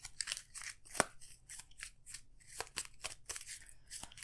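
Arkham Horror card game deck being riffled and shuffled by hand, a run of quick, close, crisp papery snaps and flutters with short pauses between bursts, played alone at low volume.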